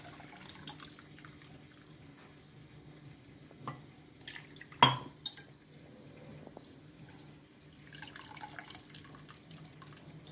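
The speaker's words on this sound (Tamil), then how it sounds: "புளி தண்ணியும் ஊற்றிடுங்க." Tamarind water is poured into a garlic rasam in a home kitchen, making a soft liquid trickle with one brief, louder splash midway before settling back to a quiet, faint flow.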